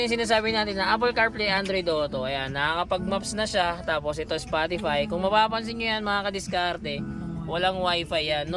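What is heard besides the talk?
None of the usual background noises is heard.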